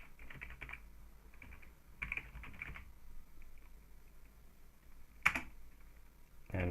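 A command is typed on a computer keyboard in quick clusters of key presses, separated by pauses and ending with a sharper key hit. The sound is quiet and close, with no talking.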